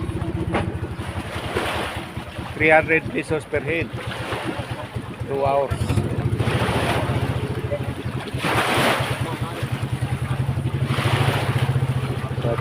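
A boat engine drones steadily at sea off Calatagan, Batangas, with wind and waves in the background, while people talk over it.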